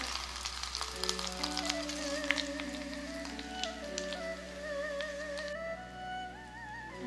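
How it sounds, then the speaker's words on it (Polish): Hot aromatic oil, still near boiling, sizzles steadily as it is mixed with chili flakes for Chinese Dan Dan noodle chili oil, a close, crackling fry that carries on throughout with faint tones in the background. "Przemieszam teraz te płatki chili z gorącym olejem."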